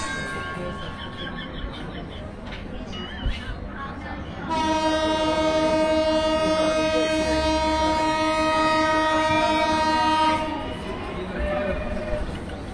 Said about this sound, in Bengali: ঘন্টা বাজলো এবং ঘন্টা বাজার পরেই কুড়িগ্রাম এক্সপ্রেস ছেড়ে গেল ঢাকার উদ্দেশ্যে